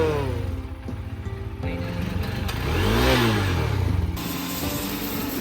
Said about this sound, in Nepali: फाइनली केटा बाइक स्टार्ट भयो।